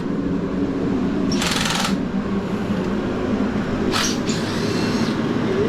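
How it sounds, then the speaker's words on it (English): Mechanical whirring and rattling while the power steering pump is pulled off a Toyota 2JZ engine during a teardown, with two brief bright metallic bursts of tool noise over a steady drone. "Gonna yank this power steering pump off."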